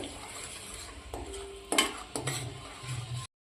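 Millet flour roasting slowly over a low flame while a spoon stirs it in a pan, giving soft scraping and a few light metallic taps over a faint sizzle, close and quiet, then a sudden stop.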